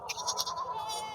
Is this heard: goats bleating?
yes